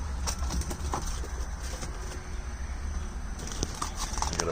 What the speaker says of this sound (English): I got a bird in my truck.